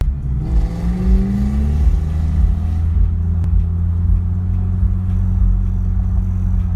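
Loud 2v Mustang GT engine revving under heavy load, with rising and falling pitch sweeps as it shifts through gears, a deep steady rumble throughout, no voices.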